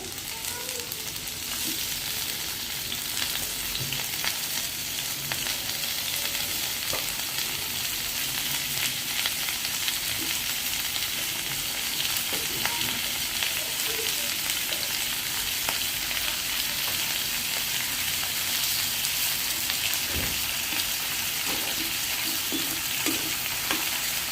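Rupchanda pomfret fish frying briefly in hot oil makes a dense, continuous sizzle that holds steady and loud for the whole stretch, with faint stirring clicks and no talking.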